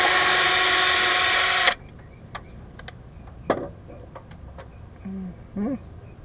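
A power drill drilling out a part whines steadily for under two seconds, then stops, leaving faint clicks and small handling noises nearby.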